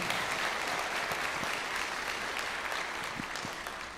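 A church congregation applauds during an evening service, dense and sustained clapping filling the room evenly for several seconds with little else over it.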